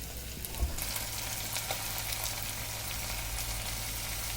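Crushed garlic and ginger sizzling and frying in a pan as they are stirred in for chili prawns, a steady close hiss with a few faint scraping knocks.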